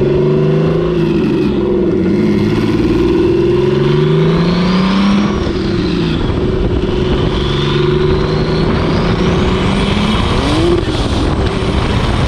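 A BMW-engined go-kart running 16 psi of boost revs hard and loud, its engine note climbing and falling in repeated sweeps over about twelve seconds, close and continuous with no talking.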